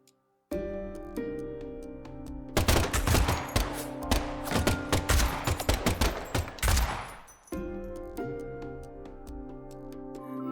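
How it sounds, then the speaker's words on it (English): Rapid bursts of video game gunfire, a dense volley of shots with heavy thuds that erupts after a tonal musical passage and then gives way to the music again. "And the last gunshot we heard sounded ominous, Zack."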